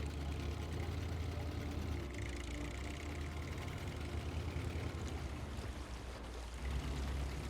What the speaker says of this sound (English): It sounds like it's got an exhaust leak. Like, the little putter definitely sounds like an exhaust leak.